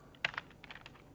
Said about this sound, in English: I'm going to hit Z, Control Z.